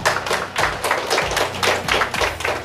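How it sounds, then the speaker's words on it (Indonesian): A group of youth organisation cadres clap their hands together at a training gathering in Bogor, Indonesia, producing steady, loud, rhythmic claps that repeat about twice per second throughout. "Berikan tepuk tangan."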